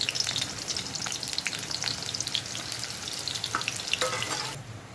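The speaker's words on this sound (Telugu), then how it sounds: "ఆయిల్ వేడయ్యాక ఆనియన్స్ వేసుకోవాలండి." Onions drop into hot oil for pepper chicken fry and crackle in a bright, close sizzle with spattering pops and some stirring. The sound stays lively throughout, then cuts off sharply at the end, with no talk.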